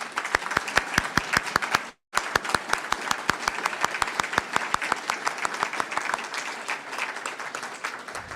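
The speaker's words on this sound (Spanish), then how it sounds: "quiero pedirles un aplauso por favor para Vivian" An audience at a Pancho Villa history presentation applauds for Vivian. Steady, close clapping runs throughout with distinct individual claps over a crowd wash, broken by one brief gap.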